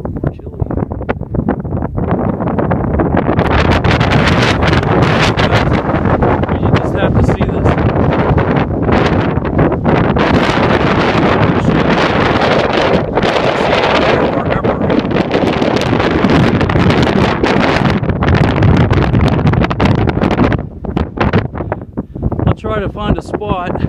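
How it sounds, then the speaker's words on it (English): Strong wind buffets the microphone inside the crater at the centre of Capulin Volcano, a loud, continuous roar with gusty swells that carries on nearly unbroken, with a person speaking under it. "I'm gonna try to get into a place where there's not as much wind, because I'm sure that's annoying."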